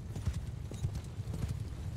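Horse hooves gallop in the Mount & Blade II: Bannerlord video game, a steady clip-clop of many quick strikes at moderate loudness against a low rumbling backdrop, with no talking.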